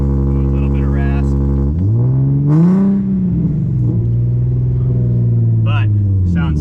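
A stick shift car on a cold start, its engine idling with a raspy, buzzy drone and a brief rev that rises and settles, loud and close, while someone talks over it.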